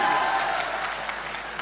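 An audience at a Muslim poetry recital (mushaira) in Saharanpur claps in a dense, continuous burst of applause that starts loud and slowly thins out.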